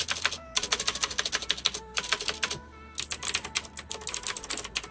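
Fast, steady typing clatters on a Gamdias P1 RGB mechanical keyboard with soft blue switches, close and crisp, in rapid bursts of clicky keystrokes separated by brief pauses.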